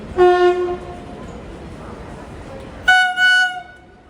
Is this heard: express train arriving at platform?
yes